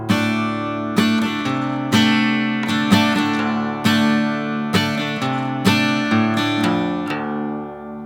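Acoustic guitar playing the intro of a song, arranged for solo performance, with strummed chords and plucked notes in a steady rhythm, close and clear, ringing out at the end.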